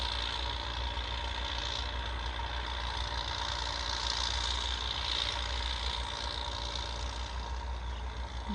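A truck engine idles in a steady, continuous drone at moderate distance, with a low rumble and faint knocking texture throughout and no speech.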